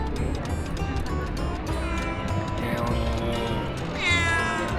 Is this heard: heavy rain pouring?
no